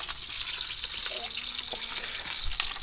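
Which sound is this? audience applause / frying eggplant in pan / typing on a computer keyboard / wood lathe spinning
frying eggplant in pan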